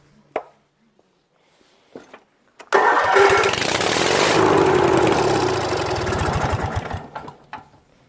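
A small lawn mower engine fires after a dose of ether, catching with a few sputters, then revving up into a loud, steady roar for several seconds before dropping back and sputtering off.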